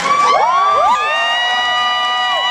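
A concert crowd at a Dragon*Con 2012 show cheers and whoops for a band member, with high whistles and shouts loudest in the first second, then a steady cheering roar.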